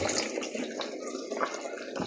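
Second extract of coconut milk poured into a cooking pot, a steady liquid splashing and gurgling wash running continuously at moderate loudness.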